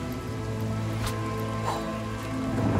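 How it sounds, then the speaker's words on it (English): A rain spell cast in Divinity: Original Sin fills the air with a steady hiss of falling rain, constant and fairly loud, with a few brighter splashy bursts and no talking. "So we cast rain!"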